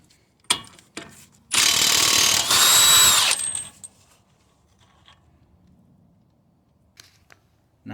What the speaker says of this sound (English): I'm gonna be removing the axle nut here